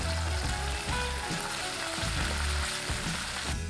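Anchovies and finely chopped salted capers frying in a pan, a steady loud sizzle with occasional stirring scrapes and shifting crackle throughout.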